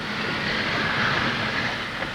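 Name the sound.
Nilgiri Express rack railway train running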